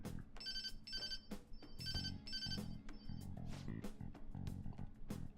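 A phone ringtone from the Persona 5 video game plays in repeated melodic bursts over a steady electronic music backdrop, clear and close, with no talking.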